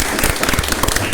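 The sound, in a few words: audience applause for a performer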